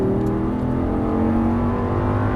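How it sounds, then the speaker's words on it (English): An Audi R8 V10 rated at 525 hp pulls hard at full throttle on a track, its engine note loud and steady with rising harmonics, heard close from the cabin with no talking. "unwind it. Full throttle."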